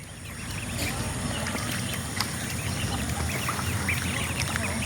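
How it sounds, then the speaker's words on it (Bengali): Ducks released onto fresh water after rain keep up a chorus of quacks over a constant rushing background, calls scattered and overlapping at moderate distance. "দেখতেই পাচ্ছেন আজকে আলহামদুলিল্লাহ একটু বৃষ্টি কম থাকাতে হাঁসগুলো একটু ছাড়লাম।"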